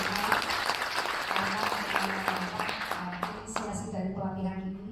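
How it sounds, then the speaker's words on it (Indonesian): Audience applause at a training programme closing ceremony in a hotel, a continuous clatter of clapping that mixes with a voice speaking over it and eases off toward the end. "Tepuk tangan untuk Pak Dirgo"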